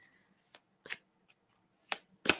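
A deck of cards is shuffled in several sharp, riffling bursts separated by quiet gaps, close up with no talking.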